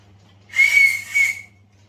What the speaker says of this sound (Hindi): कुकर की सीटी बजानी है